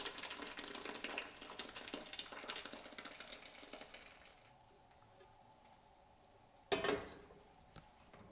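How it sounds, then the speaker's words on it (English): Strawberry dye mixture, just boiled, poured through a strainer: a steady liquid splashing stream for about four seconds, then quiet, and a brief second splash near the end. "you're going to pour it into a strainer to get all of the gunk out of it"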